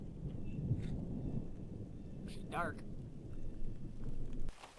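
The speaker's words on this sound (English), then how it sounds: "so I can show everybody the storm that's coming through" Thunder rolls as a storm approaches, a low rumbling wash with rain in the background, while a person speaks briefly in the middle.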